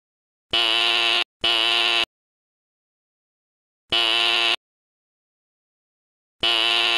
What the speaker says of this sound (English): I am going to pull up the fire alarm.